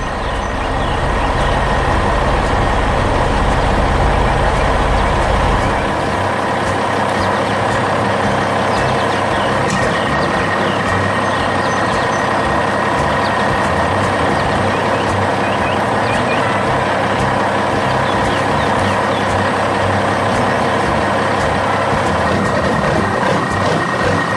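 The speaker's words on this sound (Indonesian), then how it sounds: "truk dump besar itu datang. Dia membawa tumpukan batu untuk membangun fondasi yang lebih kokoh di sini." A large dump truck arrives at a construction site with a load of stones, its loud engine rumbling steadily throughout, a heavy low drone easing slightly after the first few seconds, with a reversing beep tone running continuously over it.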